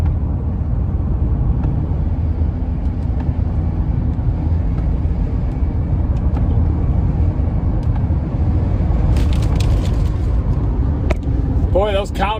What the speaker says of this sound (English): Boy, those cow trucks pass.